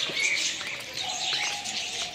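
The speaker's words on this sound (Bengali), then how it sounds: "কত বদ্রি পাখি" Budgerigars chirping and twittering in a busy flock, steady high tweets at moderate distance with faint rustling.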